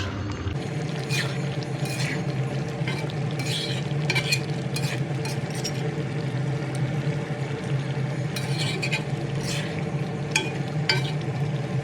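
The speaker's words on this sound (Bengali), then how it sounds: "আবারও আলুসহ চিকেন খুব ভালোভাবে নেড়েচেড়ে মিশিয়ে দিয়ে আলু ও চিকেন ভালোভাবে সেদ্ধ হওয়া পর্যন্ত রান্না করব।" Chicken and potatoes being stirred in a pan, with repeated spatula scrapes and clinks over a constant close sizzle of cooking, no voices.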